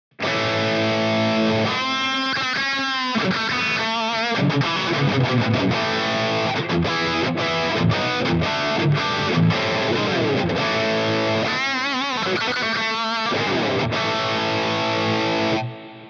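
A heavily distorted electric guitar through a HOTONE Pulze Mini amp modeler on a Bogner Boogie setting plays loud chords and riffs, with sustained crunchy tones and choppy palm-muted bursts, ending in a ringing chord that cuts off.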